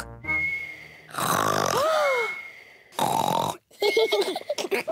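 A Peppa Pig cartoon character imitates loud snoring with a rasping inhale, a whistling exhale and a gurgling snort, in repeated bursts separated by short pauses.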